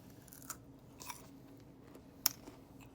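Candied pecans, sweet and cooled after baking, crunched between the teeth in a few sharp, close bites at irregular intervals, with quieter chewing in between and no talking.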